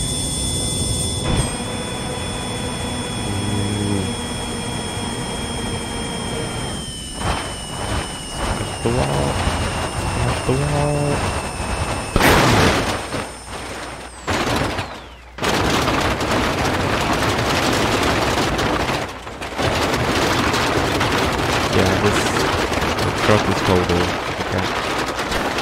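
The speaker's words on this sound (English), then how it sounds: "We're gonna smash the wall." A vehicle in BeamNG.drive slams into a wall with loud crashing bursts and sharp impacts, while engine whine and a voice carry over a dense, continuous game soundscape.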